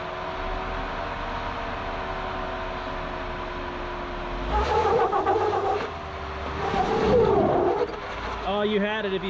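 Off-road vehicle crawling a rocky trail in Moab, its engine rumbling low and then surging twice in strong throttle bursts, with a voice speaking briefly near the end.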